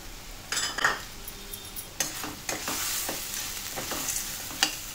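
Sandge, dried lentil dumplings, roasting in masala in a pan, with steady frying sizzle and repeated scraping stirs and light utensil clinks against the pan.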